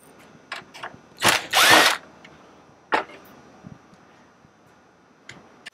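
Tools working on a Dodge Ram quad cab center console lid hinge give a few quick, close mechanical bursts: one longer ratcheting run in the middle, then sparse single clicks in an otherwise quiet space.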